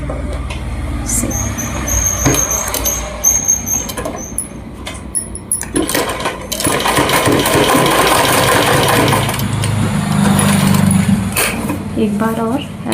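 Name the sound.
sewing machine stitching kids lehenga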